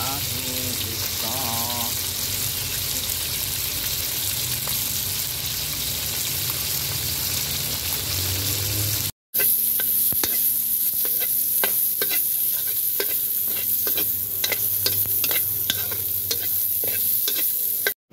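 Fish frying in a pan, a steady dense sizzle and crackle with scattered pops, loud and close, with a brief cut midway and a voice heard faintly early on.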